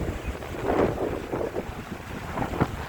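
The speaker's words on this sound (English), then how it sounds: "it is pretty windy out here" Gusty wind buffets the microphone outdoors in downtown Atlanta, a steady low rumble with louder swells, no voices.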